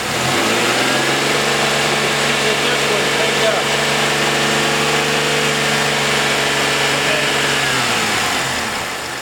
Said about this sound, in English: So we're going to rev the engine a little bit.